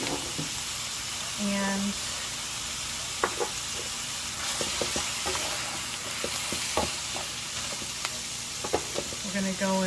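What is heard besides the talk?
baby bella mushrooms sizzling as they are added to the pan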